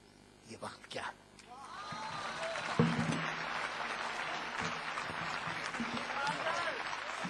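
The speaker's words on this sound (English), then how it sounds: "Please join me in giving a big round of applause to Javed Akhtar, Prasoon Joshi, Gulzar, Vishal Bardwaj, and Samit Basu." An audience at a literature festival session breaks into sustained applause after a few scattered claps and a spoken voice, the clapping swelling into a steady, full wash that lasts to the end.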